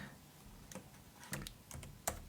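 A few scattered keystrokes on a computer keyboard, soft close clicks in irregular bursts over a faint room hum.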